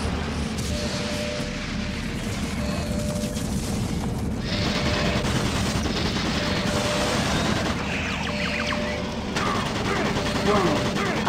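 Rapid gunfire from automated turrets in Doom 3 BFG comes in dense, sustained bursts layered over heavy game rumble and booms, with no pause across the stretch.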